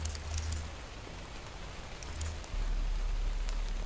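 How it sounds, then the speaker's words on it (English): Steady rain from a video game, a dense, even hiss that fills the whole stretch with no break, accompanied by a low rumble that swells partway through. "That rain sounds good."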